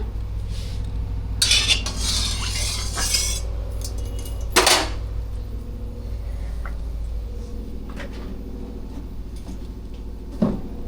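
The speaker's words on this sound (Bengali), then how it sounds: "চাউমিনটা ফ্রাই করব" Chowmein noodles being stir-fried in oil with already fried vegetables on a rooftop in winter: metal utensils clatter and scrape against the pan in irregular bursts over a steady low cooking hum, with a few sharper clanks, no talking.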